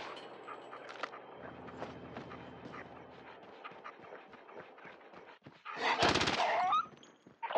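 A K-9 unit dog in the Call of Duty Mobile zombie mode gives a loud burst of barking and panting near the end, following a stretch of busy game effects and gunfire.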